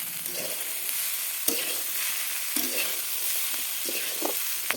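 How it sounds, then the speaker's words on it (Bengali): Potato and green bean curry stirred in a covered pan over low heat: soft sizzling throughout with intermittent spatula scrapes and a couple of sharp clicks from the lid or utensil, close up, no talking. "মাঝে একবার ঢাকা তুলে নাড়াচাড়া করে নিচ্ছি, যাতে নিচে লেগে না যায়।"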